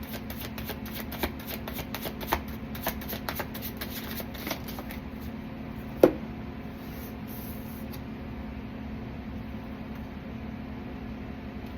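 Tarot cards being shuffled at a reading table, a low continuous riffle with scattered soft taps and one sharper snap near the middle, steady and close with a faint hum underneath and no talking.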